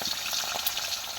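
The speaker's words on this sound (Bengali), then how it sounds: "এবারে মা রান্না করছে, কড়াই মাছগুলো দিয়ে দিচ্ছে" Fish pieces frying in oil in a hot wok, a continuous crackling sizzle with small pops and spatters, close and fairly loud.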